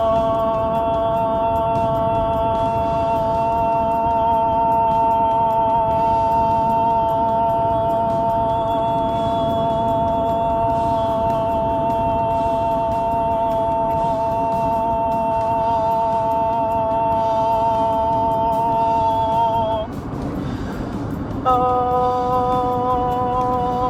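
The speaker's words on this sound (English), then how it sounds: "I do long tones, which is" A singer's vocal warm-up of long tones: one steady, loud sung note held for about twenty seconds, a short break, then another sustained note carrying to the end, with no talk.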